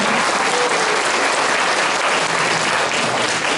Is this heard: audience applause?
yes